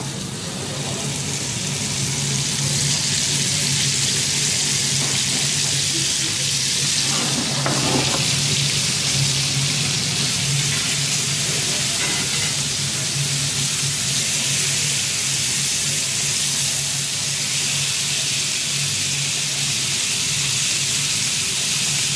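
Beef fillets frying in a pan give a steady, loud broadband sizzle that runs the whole time, with a few brief louder crackles partway through.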